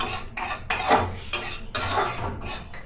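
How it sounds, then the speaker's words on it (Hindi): Gram flour (besan) being roasted in a pan, heard as a series of separate scraping and stirring strokes of a utensil against metal, rhythmic and close, with no talking. "तो पूरा भून लेती हूँ, मिला लेती हूँ"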